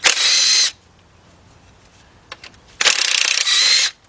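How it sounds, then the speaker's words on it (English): Two loud bursts from a cordless impact wrench as four 10mm bolts come out with a 6-inch 3/8-drive extension on a Volkswagen Beetle engine, each run lasting under a second and separated by a quiet pause. "I got cordless impact. And let's go ahead, take out the 4 bolts"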